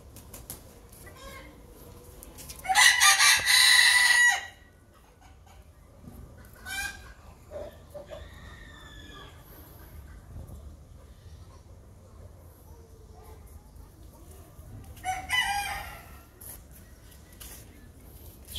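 A loud, close rooster crow at the Tashkent zoo breaks out early and ends abruptly, with scattered fowl calls and a second shorter crowing burst later.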